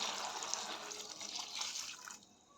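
Water is poured into sambar while cooking, a quiet, continuous splashing trickle that runs for about two seconds and then stops abruptly, leaving near silence.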